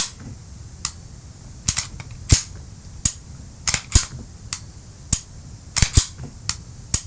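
Trigger of a Canik TP9 SFX pistol being reset: a series of sharp, close, crisp mechanical clicks at uneven intervals, some in quick pairs, with quiet room noise between.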